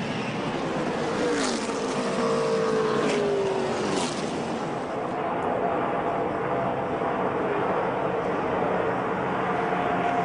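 NASCAR stock cars roar through the final lap of a race, engine drone rising and falling as cars pass close by, with speech from a commentator under the steady engine noise.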